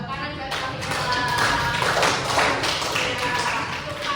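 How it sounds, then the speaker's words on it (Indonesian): Group of schoolchildren applauding together for a classmate in a classroom, steady continuous clapping throughout at moderate loudness, with a teacher's voice heard briefly over it. "Sabia, tepuk tangan buat Sabia."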